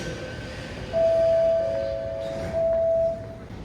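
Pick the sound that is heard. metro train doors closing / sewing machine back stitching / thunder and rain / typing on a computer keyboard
metro train doors closing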